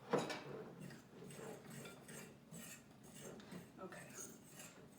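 Currants being stirred into scone dough in a mixing bowl, with a spoon scraping and clinking against the bowl in soft, uneven strokes close by, no talking.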